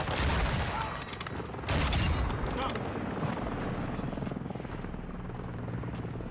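A helicopter killstreak in the video game Modern Warfare 2 produces loud rotor roar with rapid bursts of gunfire and explosions mixed in, dense and continuous, while a player talks over the action.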